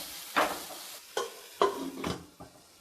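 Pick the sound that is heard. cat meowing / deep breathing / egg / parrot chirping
egg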